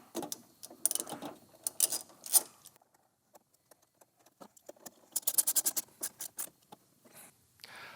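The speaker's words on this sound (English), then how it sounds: "So we'll remove this nut here with a 12mm." Ratchet wrench loosening a 12mm nut on a truck's battery solenoid during a dual battery install on a second-generation Toyota Tacoma; quiet, scattered clicking and scraping in short bursts, close up, with no talking.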